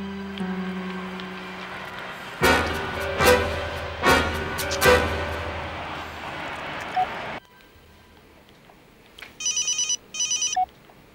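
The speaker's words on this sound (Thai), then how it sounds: "เขาก็ไม่ยอมรับโทรศัพท์หมีนะสิ" A telephone rings unanswered in a Thai drama scene, a few loud rings with steady tones, then after a pause a shorter pair of electronic ring bursts.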